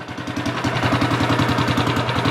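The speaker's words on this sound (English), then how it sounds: "It's idling well." A Studebaker car engine with a stock cam idles close by with a steady, lumpy, rhythmic chug, loud and continuous.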